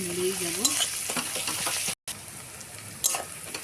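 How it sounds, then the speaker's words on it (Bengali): Salted chopped onions fry in a pan for a chicken dish while a spoon keeps turning them, making a close, steady sizzle with scraping strokes and a brief cut partway through. "পেঁয়াজটা যতক্ষণ নরম হয় ততক্ষণ নেড়েই যাব"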